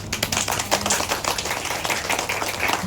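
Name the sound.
audience applause for the director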